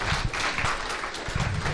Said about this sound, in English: Let's give Leela a round of applause as we wrap up this year's